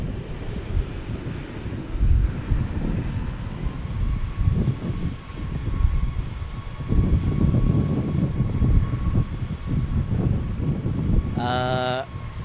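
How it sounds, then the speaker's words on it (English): A KLM Boeing 787-10 jet airliner flies past during plane spotting in San Diego, its engines a loud, steady roar with wind buffeting the microphone throughout. "KLM sent a 787-10."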